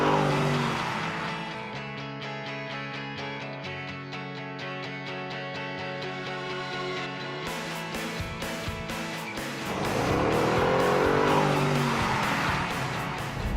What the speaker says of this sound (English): I don't stand a chance in a race against Harry in a Bentley